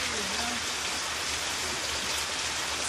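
Steady rain falling on garden plants in rural Jamaica, a dense even hiss of drops with a faint voice in the background.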